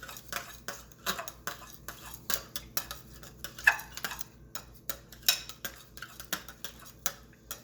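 A knife works through a meat loaf mixture with brown sugar in a bowl, giving a steady run of light clinks and scrapes at close range with no talking.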